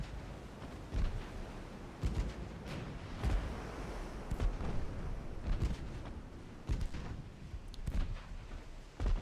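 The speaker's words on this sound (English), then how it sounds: "Now we're officially opening fire with Trey. Those little 4-inch guns are doing their job." Small 4-inch naval guns fire in a naval warfare game, a series of sharp, booming reports roughly every second or two over a continuous rumbling battle background, no voices.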